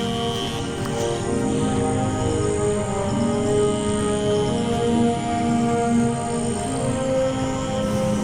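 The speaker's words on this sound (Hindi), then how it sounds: "मुझे मेंढकों की आवाज़ें आ रही हैं, फ्रॉक्स की" A dense chorus of frogs and insects calls continuously in the background of Jallo forest, steady and moderately faint, with layered trilling tones and no talking.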